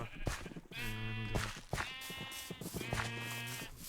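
Sheep in the Minecraft video game bleat three times in succession, each a loud, wavering baa, with soft clicks and footsteps between the calls.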